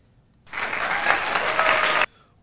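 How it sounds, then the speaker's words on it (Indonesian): A studio audience at a TV quiz show breaks into a burst of applause lasting about a second and a half, dense and lively, starting and stopping abruptly against near silence. "Dirinya pun diberikan aplaus yang sangat meriah."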